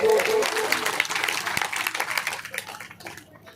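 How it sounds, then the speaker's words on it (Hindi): A crowd at a religious scripture-recitation gathering claps loudly in a burst of applause that starts strong, then gradually thins and fades toward the end, with some murmuring voices underneath. "एक बार तालियां जोर से।"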